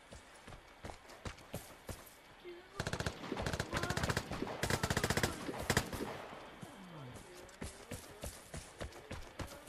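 Rapid bursts of automatic gunfire in the online shooter game Vigor, dense volleys swelling in the middle amid scattered single shots and footsteps, loud and close with some speech mixed in.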